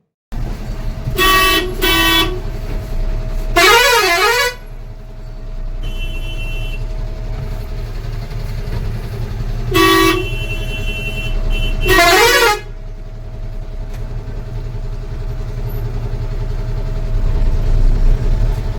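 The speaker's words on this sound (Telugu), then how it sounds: "హారన్ కొట్టడం అయితే స్టార్ట్ చేసినా" Loud truck horns blare in several bursts, some short toots and some longer wavering blasts, over a constant engine and road rumble.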